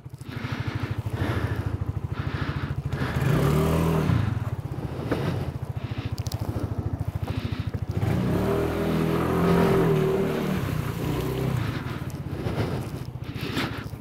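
A Suzuki Address 110 scooter rides along a snowy road, its small engine buzzing steadily close by and swelling in pitch as it accelerates, with rushing wind and crackly road noise around it.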